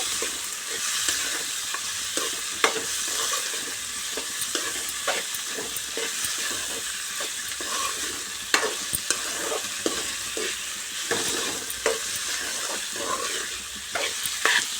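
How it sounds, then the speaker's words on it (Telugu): Onion pieces stirred through a sizzling tempering in a pan for a mint and onion curry, with a steady frying hiss and repeated scraping stirs, close and continuous without talk. "మంచిగా ఈ పోపు అంతా ఈ ముక్కలకు పట్టే విధంగా కలుపుకోవాలి"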